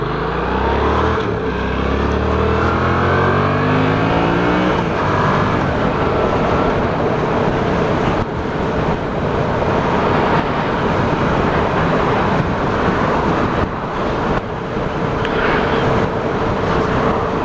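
A Yamaha MT-07 motorcycle being ridden, its engine revving up through the gears at the start and then holding a steady drone under loud, constant wind rush for the rest of the ride.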